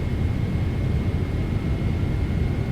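PMDG 777-200ER jet engines building thrust in MSFS 2024, a steady broadband roar with a constant high whine, loud and unbroken throughout.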